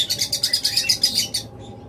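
Pet birds kept in pairs for sale chirp in a quick, regular run of about a dozen bright, close tweets, then stop abruptly.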